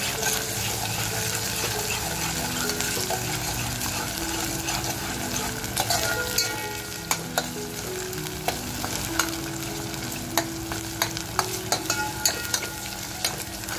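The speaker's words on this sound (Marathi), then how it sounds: "चरबी आहे ना तेलामध्ये अशी मस्त फ्राय झाली पाहिजे" Mutton fat frying in hot oil with ginger, garlic, coriander and chilli for a mutton curry, a steady close sizzle with occasional sharp pops and spoon clicks against the pan.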